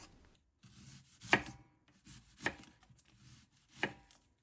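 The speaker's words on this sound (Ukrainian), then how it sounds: "спочатку беремо цибулю та нарізаємо її кільцями" Three sharp knife chops land on a cutting board at roughly one-second intervals as an onion is sliced into rings, close and crisp, with soft slicing sounds between them.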